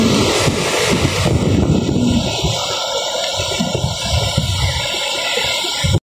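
Strong wind buffets a microphone on a littered beach during stormy weather, a loud continuous roar with rumbling gusts, maybe mixed with distant surf, steady throughout with no talking.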